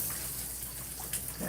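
Water rushing from a tap into a bottle during a hair-washing routine, a steady close gush with broadband splashing that holds evenly through the moment.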